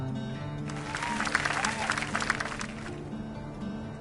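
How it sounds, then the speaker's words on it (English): Crowd applause from the video game My Time at Sandrock, celebrating the rebuilt bridge, swelling into a dense burst of clapping and cheering for a couple of seconds before fading out. "let's give a special round of applause for our core construction team"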